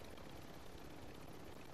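Helicopter in Call of Duty Warzone 2.0: a steady, dense broadband rotor and engine roar that fills the whole stretch evenly at low level, with no talk.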